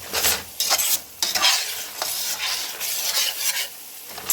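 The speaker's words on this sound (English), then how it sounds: "You can just keep stirring and stirring and stirring" Candied nuts are stirred in a hot pan with repeated scraping strokes, about a dozen quick pushes and swishes over a soft sizzle, close and fairly loud, with no talking.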